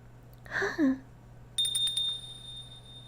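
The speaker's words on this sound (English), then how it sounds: "I think that was the bell we heard when she was locked in that box." A bell rings in the Pocket Mirror video game, a bright sustained metallic tone that starts partway through and lingers, after a brief voiced sound.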